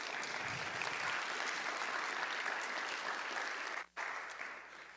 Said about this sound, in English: just give yourself a round of applause